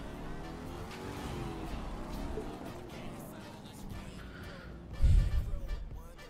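A Porsche in The Crew 2 drives along with a low, steady engine hum and shifting revs, then a brief heavier thump and roar near the end, with a voice speaking over it at times.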